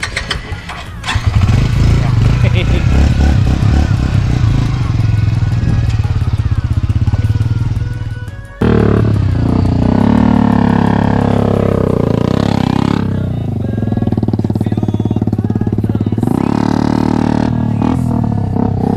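A Haojue Xpress 125 motorcycle during riding practice, its engine running loud and close with revs surging and dropping, a sharp cut partway through, then renewed revving with rising and falling pitch; a voice is also present.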